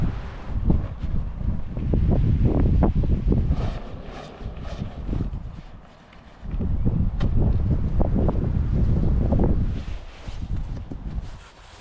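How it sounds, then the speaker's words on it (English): Strong gusty wind of about 11 m/s at a lakeside solo campsite, buffeting the microphone in two long roaring surges separated by a brief lull, with deep rumbling and flapping close by. "So the wind has right now 11 meters per second in like wind gusts."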